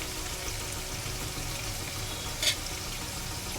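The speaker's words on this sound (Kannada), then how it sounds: "ಈರುಳ್ಳಿ ಗೋಲ್ಡನ್ ಬ್ರೌನ್ ಬರೋ ತನಕ ಫ್ರೈ ಮಾಡ್ಕೊಳ್ಳೋಣ." Onions with green chillies and salt fry in a pan until golden brown, a steady close hiss of sizzling oil with one brief louder spatter midway.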